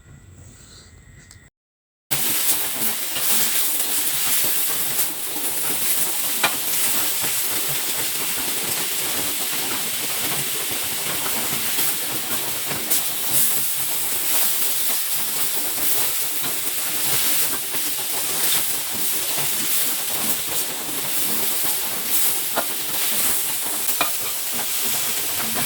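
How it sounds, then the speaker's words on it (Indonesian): Carrots and potatoes tipped into a pan of fragrant fried shallots and stirred until evenly mixed, giving a loud, unbroken sizzle and hiss that starts right after a brief silent gap. "Sekarang saatnya taruh dia wortel dan kentang ini, dan kita aduk sampai dia rata begitu"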